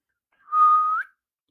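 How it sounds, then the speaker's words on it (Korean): A single sustained whistled note, clear and fairly loud, holding steady for about half a second before bending upward at the end, with no talk around it. "휘파람으로 노래 한번 하셔도 되겠네요"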